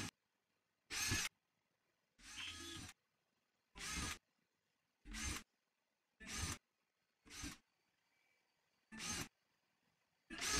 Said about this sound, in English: using a small drill bit, drill the holes for where the twine and the button is going to go through.